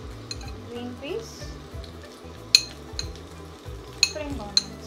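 A steady sizzle of vegetables (capsicum, carrot, cabbage, green peas, spring onions) frying for fried rice in a hot miniature pan, with a few sharp metallic clinks of a utensil against the pan.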